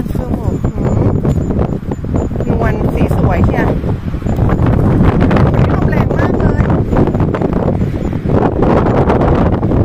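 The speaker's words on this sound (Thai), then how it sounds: "ลมแรงมาก" Strong wind blows through a forest in France during a mushroom hunt, roaring and buffeting the microphone in loud, continuous gusts for the whole stretch.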